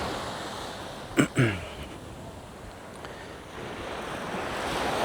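Sea surf at Almaza Bay near Marsa Matruh, Egypt, a steady broadband wash of waves with wind noise across the microphone, carrying on throughout with a brief louder burst near the start.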